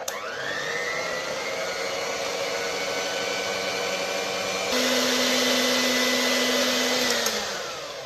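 An electric mixer whirs steadily as vanilla is blended into cake batter, a close continuous motor drone that shifts up to a louder, higher-pitched speed partway through, then winds down at the end.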